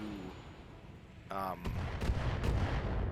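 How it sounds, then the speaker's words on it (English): Mech weapons firing in the Battletech video game, a burst of rapid-fire shots followed by several heavy booming impacts over a low rumbling backdrop. "Firing full complement on enemy."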